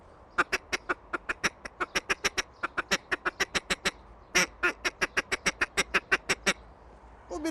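A duck call imitating a lone feeding duck, tongue pressure producing a steady series of short, clipped tuk notes in quick rhythm, with a brief pause before the run resumes, close and alone.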